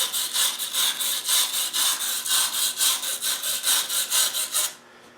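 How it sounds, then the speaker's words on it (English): Steady back-and-forth scrubbing on a drum sander drum to remove resin, about a dozen even rhythmic strokes, close and fairly loud, ending abruptly. "I'm going to scrub it just a little bit."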